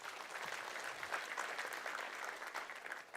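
Church congregation applauding during a worship sermon, a soft, steady wash of many hands clapping heard from a distance for a few seconds, with no talk over it.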